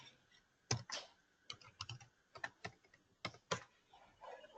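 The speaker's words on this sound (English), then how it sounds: "So when you type some password" Someone types a password on a computer keyboard in a series of close, irregular clicking keystrokes with short pauses between bursts, and the tapping is heard alone.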